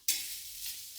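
Grated coconut, shallots and curry leaves hit a hot pan for roasting, giving an immediate loud sizzle with a stirring scrape that settles into a steady hiss.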